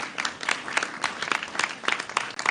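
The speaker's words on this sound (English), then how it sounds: "Another round of applause for Josh." Applause for Josh at a Virginia governor's Juneteenth holiday press conference, a moderate crowd clapping with distinct individual claps and a slightly uneven, fluctuating level, no voices.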